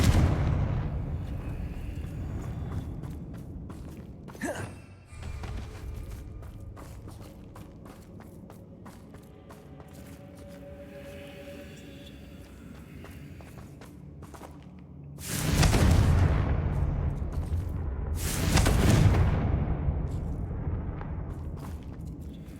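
A Confringo fire spell explodes in Hogwarts Legacy amid combat sounds, with two loud blasts near the end standing out above softer thuds and rumbling game noise.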